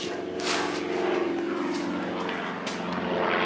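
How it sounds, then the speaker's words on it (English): An airplane flies overhead above a large outdoor lot, its engine a loud, continuous droning roar that swells slightly and holds steady throughout, with no talking. "There's always a plane when I need to record something."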